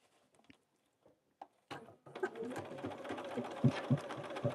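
A sewing machine stitches tiny fabric scraps for a stained-glass-style project, starting after a few quiet handling taps, then running in a close, steady whirr with uneven stuttering bumps as the small pieces catch.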